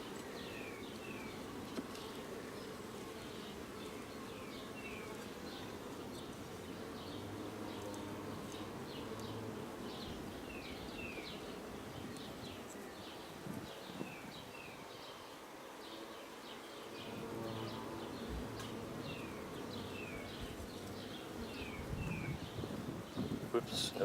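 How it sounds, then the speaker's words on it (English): Bees hum and buzz steadily around an open beehive during an inspection, individual insects zipping past the microphone over a constant drone, with wind rumble and occasional soft handling sounds. "I scared that bee there a little bit."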